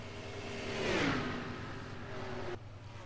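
Stock cars race at Daytona in a racing video game, their engines whining in a steady drone as one car sweeps past with a rising then falling pitch before the sound cuts off abruptly.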